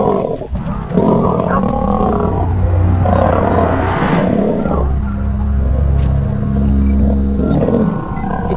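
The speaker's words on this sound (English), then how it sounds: "It was roars and the most terrifying sounds." Lions roar and snarl through a violent fight, deep rumbling growls layered and continuous, loud and close with no speech.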